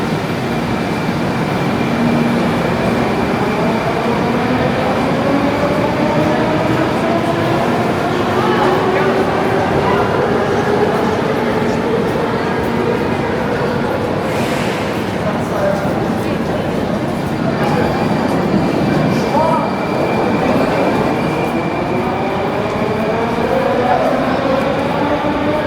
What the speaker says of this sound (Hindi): हम लोग आ चुके हैं कीव्स का मेट्रो स्टेशन पे